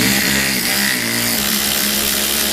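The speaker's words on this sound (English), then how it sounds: "Forgot about my awesome automated ratchet here." An automated electric ratchet whirs continuously at close range, a steady motor drone with a faint pitch shift partway through and no talking.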